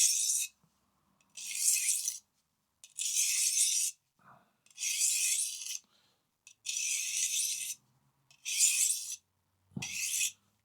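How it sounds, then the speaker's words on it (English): Knife blade drawn through a compact travel knife sharpener in seven even raspy strokes, each about a second long with short quiet gaps between, close and clear with no talking. "you can always hold the knife and take the sharpener to it"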